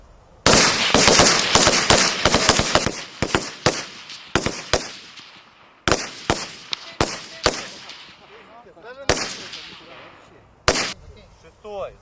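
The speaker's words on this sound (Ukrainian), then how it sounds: "Стріляй по другій мішені. Вогонь!" Rapid volleys of sharp rifle shots crack one after another at a shooting range, dense at first then spacing out, with a few voices calling commands between bursts.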